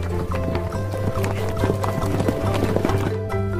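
Rhythmic hoof clatter of a running horse, steady and close, with a faint whinny-like tone mixed into busy background sound, from a toy horse.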